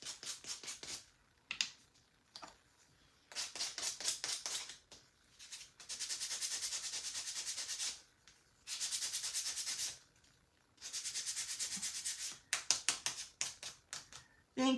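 A handheld sanding tool works around the edges of a small craft piece in bursts, roughly a second or two each with short pauses between, a close, hissing, scratchy grind that starts and stops repeatedly.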